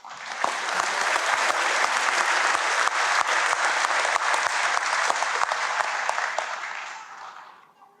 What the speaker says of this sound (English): Please also give them a round of applause.